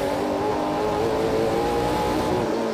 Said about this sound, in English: I just love hearing the throttle control.